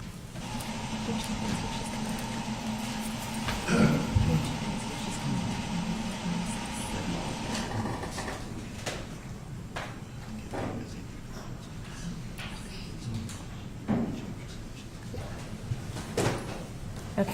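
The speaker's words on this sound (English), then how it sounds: "I've been told that that sound is our cooling system not working" A malfunctioning cooling system in a courtroom gives off a continuous low hum and hiss, with scattered knocks, clunks and thumps rising over it at intervals and faint indistinct voices in the room.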